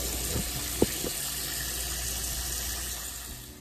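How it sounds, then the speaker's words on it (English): Water runs steadily from a tap or sprayer while a child's hair is rinsed of pre-shampoo, a continuous close hiss that holds for the whole stretch, broken by one brief knock near the start. "here we're just getting ready to start rinsing this pre-shampoo out"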